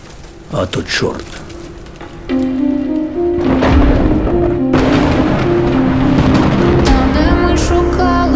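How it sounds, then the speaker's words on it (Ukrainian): Thunderstorm with heavy rain pouring steadily and thunder rumbling loudly, preceded by brief voices and a few sharp knocks before the downpour takes over. "Гроза така, як тепер."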